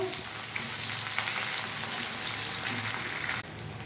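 Onion stirred while frying in a pan, a dense continuous sizzle with light scraping underneath, close and steady before dropping a little at the end.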